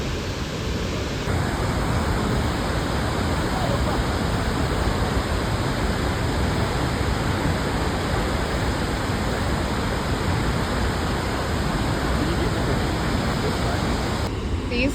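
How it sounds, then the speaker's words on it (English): Waterfall of muddy, reddish water near Douala, Cameroon, roaring as a loud, steady broadband rush that fills the whole span without pause. "Waterfall."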